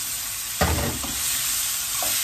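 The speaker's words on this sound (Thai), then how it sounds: "จากนั้นพอลาบก็จะเอากุ้งไปผัดกับผงกะหรี่นะเพื่อน" Shrimp stir-fried with curry powder in a pan, a sudden scrape and burst of sizzling as the food is stirred, followed by a steady close-up frying hiss with a few lighter stirring scrapes.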